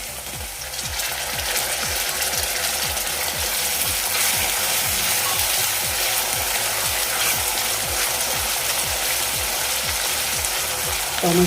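Finely chopped medium tomatoes frying with golden-brown onions, a steady close sizzle with a rapid rhythmic ticking running underneath throughout and no talking.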